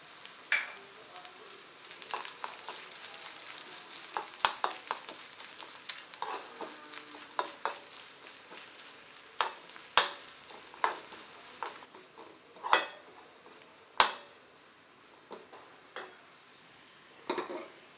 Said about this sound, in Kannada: 2 ನಿಮಿಷ ಚೆನ್ನಾಗಿ ಫ್ರೈ ಮಾಡ್ಕೊಳ್ಳೋಣ.